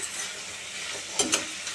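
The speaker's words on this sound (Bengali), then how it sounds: "সেদ্ধ করা মোচাগুলো চটকে রেখেছি সেটা দিয়ে দেবো এবার সেটাকে ভাজা ভাজা করে নামানোর আগে" Mashed boiled banana flower fries in a pan with a steady sizzle and soft stirring scrapes, broken by two brief utensil clatters near the end; no voices.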